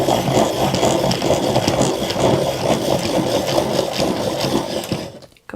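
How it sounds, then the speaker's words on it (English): A colouring pencil turning in a dowel sharpener, giving a steady, continuous grinding rasp with slight rattle that runs close and loud for about five seconds, then cuts off abruptly. "Let's use the dowel to sharpen that one"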